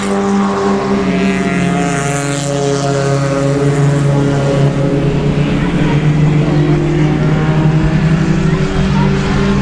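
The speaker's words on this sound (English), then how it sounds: "GB Carter for the final time down the backstretch into turn number 3" Race cars roar together on the final lap at the I-37 Speedway, a dense, sustained engine drone with layered harmonic whine heard from a distance. A voice appears to talk over the steady, loud mix.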